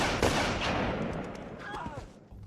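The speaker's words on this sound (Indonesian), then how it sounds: "Hingga akhirnya si Jonas menembak Parel." Gunfire from a film scene in which one character shoots another, a sharp loud report near the start followed by echoing, decaying blasts and rumble under a dense, noisy soundtrack.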